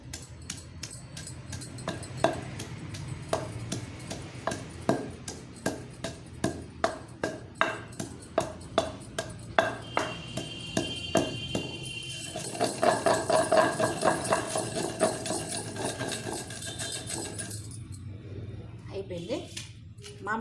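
Cumin seeds are ground with a mortar and pestle in a home kitchen, steady hard pounding strikes with a ringing knock, then a quicker rough scraping stretch, while someone talks over much of it.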